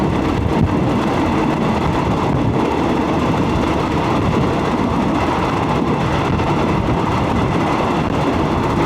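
Ordinary passenger train 445 from Chumphon to Hat Yai rumbles steadily from inside the carriage with windows open, a loud, continuous roar and faint clattering of wheels on the track beneath.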